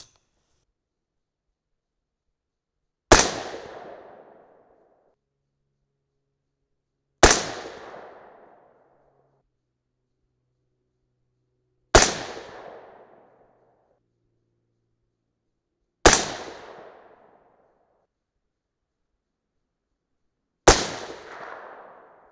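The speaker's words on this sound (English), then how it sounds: "still shooting with the silencer co-suppressor, the magnetospeed chronograph" Five suppressed shots from an AR-10 rifle in 6.5 Creedmoor firing 140-grain Speer Gold Dot loads through a suppressor, each a sharp loud crack with a short decaying tail, spaced roughly four to five seconds apart with silence between.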